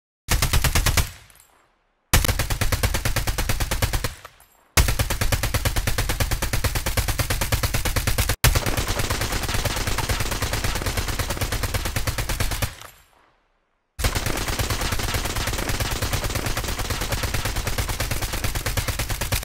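Rapid automatic gunfire in the mobile shooter COD Mobile, loud and dense in sustained bursts separated by brief pauses, with no talking.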